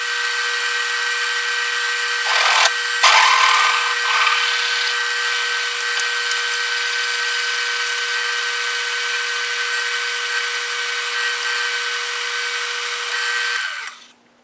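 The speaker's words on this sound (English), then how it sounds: "I'm going to drill through it 3/4 and then use a boring bar to take it up to size" An old belt-driven drill press bores a 3/4-inch hole through a rotary table pallet part. A steady, close motor whine with grinding cutting noise starts with a brief louder burst, runs evenly, then spins down at the end.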